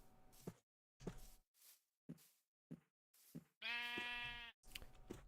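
Repeated sheep bleats from Minecraft, a series of short separate calls with gaps between them, then one long, loud, close bleat near the end followed by a shorter one.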